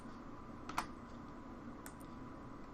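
Computer keyboard shortcut keys pressed, Ctrl-C and Ctrl-V during copy and paste, a couple of quick soft clicks near the start and another pair later, faint against a steady low room hum.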